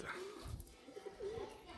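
Pigeons coo beside their recently enlarged coop, a soft low murmuring that rises and falls steadily through the short moment.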